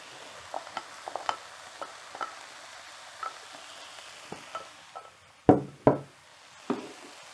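Bacon for a Cornish raw fry returned to the pan, sparse clicks and knocks of utensils on the pan over a faint background, with a few sharper louder thumps near the end.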